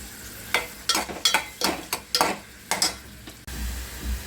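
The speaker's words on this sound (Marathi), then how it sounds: "कांदा भाजत आलेले आहे" Onion frying in oil in a pan while cooking a Marathi-style fish masala, with a run of rhythmic spoon strokes scraping close over a low sizzle, ending in a softer, steadier fry.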